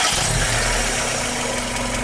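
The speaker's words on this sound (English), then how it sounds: "So we're going to go ahead and start the engine." Mazda Miata engine starting and settling into a steady idle, a loud close rumble with constant broadband roar throughout and no voices.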